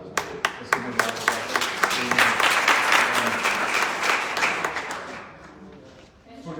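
Audience applause at a prize ceremony honoring a professor, a dense burst of many hands clapping that swells, holds steady, then thins out toward the end, with a few voices mixed in.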